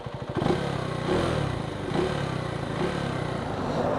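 A Husqvarna Svartpilen 401 single-cylinder motorcycle engine fires up and settles into a steady, fairly loud idle with a throbbing mechanical clatter, heard up close with no talking.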